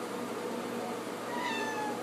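A house cat gives a short meow near the end, faint over a steady background hiss indoors, with no talking.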